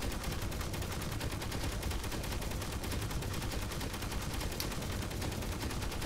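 Automated turrets in Space Engineers fire in a continuous rapid stream of gunshots, a dense, even, unbroken rattle that carries on without pause and sits fairly faint.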